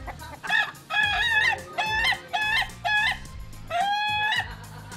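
A Bugis laughing chicken (ayam ketawa) from Sidrap crows loudly and close in several bursts. Its voice is rapid, broken and cackling, like laughter, with short gaps between the calls.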